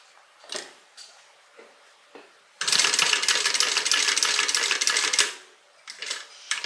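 Leather hip bag being stitched on a sewing machine: a few brief clicks of needle positioning, then a steady loud run of rapid mechanical stitching for about two and a half seconds before stopping, followed by light handling clicks.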